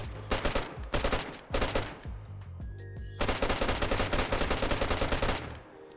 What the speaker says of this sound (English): This gun has 3 firing modes, the semi-automatic, burst, and automatic.